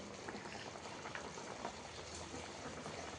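Fish curry broth boiling in a pot, a soft continuous bubbling and simmering hiss, faint and steady throughout with no voices.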